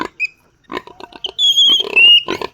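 A sow that gave birth about two hours earlier grunts and squeals close up, short choppy grunts followed by a long, loud, high squeal and a few more grunts.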